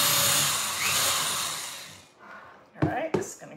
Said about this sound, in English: stick my drill into the top of it